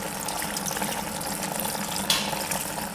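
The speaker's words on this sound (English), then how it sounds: "so I'll just put some more water in" Water running from a tap into a pot of vegan broccoli soup, a steady, soft pouring wash that continues throughout, with one brief brighter splash partway through and no talk.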